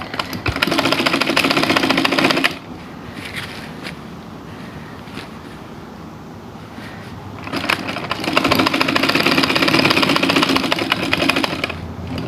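Domestic sewing machine stitching the open seam of a Sri Lankan national kit before the hem, running loud in two steady bursts with a quieter pause between them.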